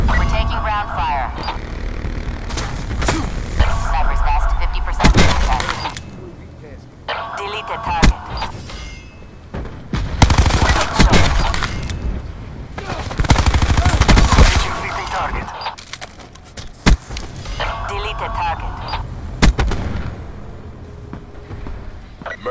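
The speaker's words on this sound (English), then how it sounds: "We're taking ground fire." Automatic gunfire bursts and ground fire in the Call of Duty Black Ops 4 video game, loud repeated volleys and sharp shots over a droning engine, with radio-style voices talking between bursts.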